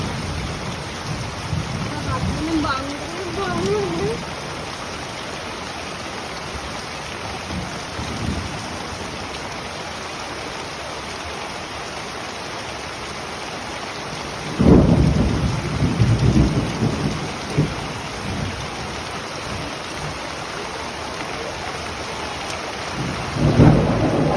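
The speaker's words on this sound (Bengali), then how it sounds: "কি প্রচন্ড হাওয়া ছেড়েছে আর বৃষ্টিও হচ্ছে বিদ্যুৎ চমকাচ্ছে" Heavy rain pours steadily during a thunderstorm with strong wind, broken by loud thunder rumbles near the middle and end; a voice speaks briefly early on.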